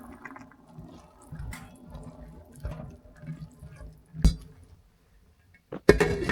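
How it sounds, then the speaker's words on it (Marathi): Water is poured into a pan of Maharashtrian sprouted moth bean (matki) curry, giving a few close, brief splashes and trickles separated by quiet gaps, with a sharper clatter at the end. "आपल्याला जेवढं पाणी हवंय आपण तेवढं भाजीमध्ये घालूया."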